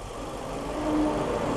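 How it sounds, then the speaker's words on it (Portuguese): A Toyota Yaris engine idles steadily with a vacuum hose pulled to provoke a fault, and its hum swells slightly as the revs rise partway through. The sound is close, continuous and medium loud, with no talking. "O motor vai até mudar um pouquinho, ó, ficou mais acelerado."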